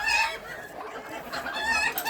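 Backyard chickens of mixed breeds, including bantams, clucking in alarm, with agitated squawks and cackles in bursts at the start and again near the end.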